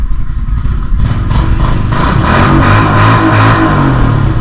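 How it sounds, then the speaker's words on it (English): A Kawasaki KLX110R dirt bike engine revs up and down in a garage, close and loud, with a string of rising throttle blips over a rough idle. "Let's hear that rev range a bit."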